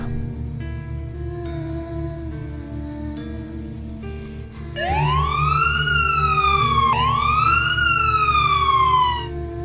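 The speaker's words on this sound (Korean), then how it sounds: "열란스럽게 울려대는 사이렌 소리에 귀가 왕왕거릴 정도다" A loud wailing siren rises and falls in long sweeping cycles over a low engine hum, close by and dominating.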